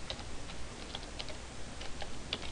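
Keys clack in a light, irregular series on the keyboard of a Nextbook Next3 tablet, faint and close over a low hiss.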